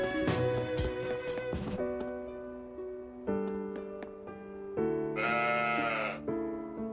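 Sheep bleat repeatedly in the video game Trails of Cold Steel IV, several drawn-out wavering baas in close succession, clear and near, some overlapping, over a quiet backdrop.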